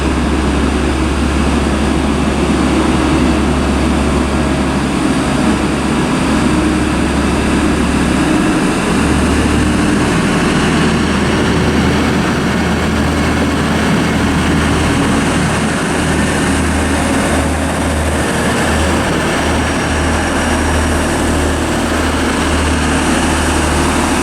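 A British Rail Class 185 diesel multiple unit sounding rough and unwell as it departs Durham station, a loud, steady low engine drone dominating throughout with no voices.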